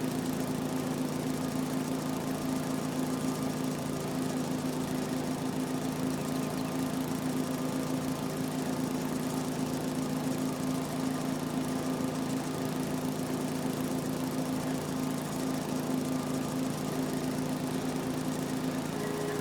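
Small lawn mower engine running in Farming Simulator 22, a steady droning hum with a constant pitch that stays loud and unchanging for the whole stretch, with no talk over it.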